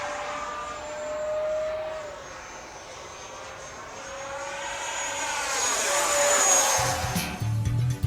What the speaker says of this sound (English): The jet now flies on the new Freewing Eurofighter motor, a huge upgrade in speed and thrust.